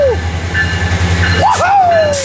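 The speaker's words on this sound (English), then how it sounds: "there goes North LA and this Metrolink south to Laguna Niguel" A Metrolink commuter train rumbles past close by at Fullerton, California, with a low steady drone, while cheering voices rise over it near the end.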